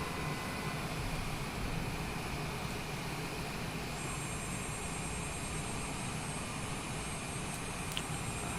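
A Longitude business jet taking off in Microsoft Flight Simulator, its engines giving a steady, dense roar and broad rushing hiss that holds constant, with a faint high whine joining midway.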